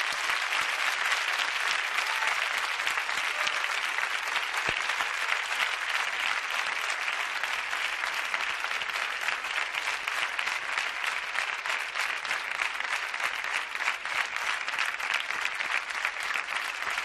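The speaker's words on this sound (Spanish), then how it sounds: "Un aplauso muy fuerte para ellos." Loud, sustained applause from a large television studio audience, a dense steady roar of clapping that holds without a break.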